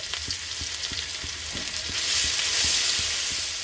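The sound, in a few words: chopped garlic and ginger frying in oil in a frying pan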